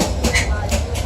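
A train runs on the line from Golden Rock to Yangon Central in Myanmar, a loud close rumble of rail cars with rhythmic clicks from the wheels.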